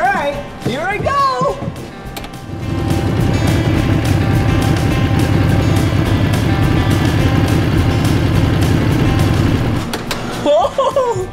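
An off-road snow groomer's engine rumbles up and drives off, a loud steady low drone lasting most of the time, with an excited voice talking before and after.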